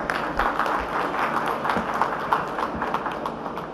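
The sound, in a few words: audience applause at EV expo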